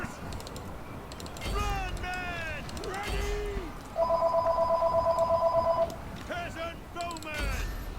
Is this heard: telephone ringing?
yes